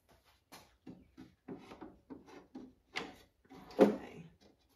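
Wooden shelf slid and set into a wooden dresser being converted into a hutch, a series of short knocks and scraping bumps, close and moderately quiet, with a louder thud near the end.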